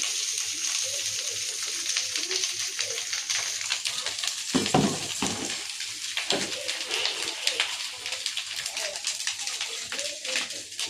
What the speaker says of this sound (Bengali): এই ভাতটা এখন ভাজা করছি